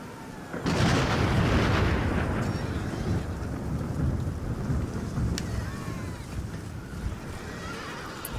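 Heavy rain hisses steadily and a loud thunderclap rolls in early during a rainy Shogun Total War battle, with faint horse whinnies in the mix.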